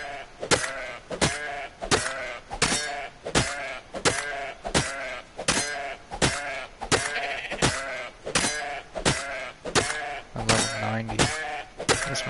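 Sheep bleating in the survival video game Ark Survival Evolved, set in its Aberration map, repeats in steady rapid bursts over a continuous game soundscape, loud and close with no voices.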